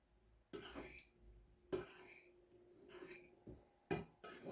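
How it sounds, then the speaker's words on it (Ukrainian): A fork scrapes and clinks against a plate in several short bursts, mixing cauliflower with garlic and dill at close range with quiet pauses between strokes. "І все виделкою так примішаю легенько"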